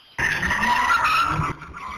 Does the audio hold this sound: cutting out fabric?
no